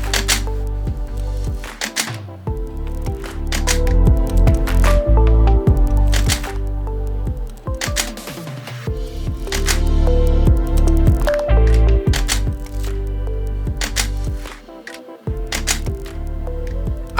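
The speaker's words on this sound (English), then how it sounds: "we see how 3 images with different pan positions are taken at each slider position" A camera riding a motorized slider for a multi-lapse panoramic sequence, shooting three frames at different pan positions per stop: repeated mechanical clicks and whirring motor runs in a steady cycle, close and fairly loud, with no talking.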